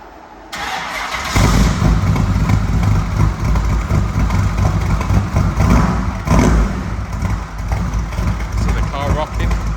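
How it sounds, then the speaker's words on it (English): A Shelby GT500 Eleanor Mustang with a 7 litre big block V8 fires up after a short crank, settling into a loud, deep, rumbling idle with a brief rev partway through, heard close up with a voice talking over it. "this is the Shelby GT500 Eleanor firing up"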